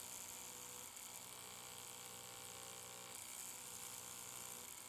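A tattoo machine works a sound-wave design into skin, giving off a steady, close electric buzz that holds unbroken throughout with no talking.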